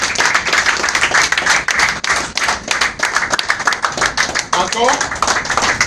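A church congregation claps together, a dense run of hand claps that continues for several seconds while voices call out over it.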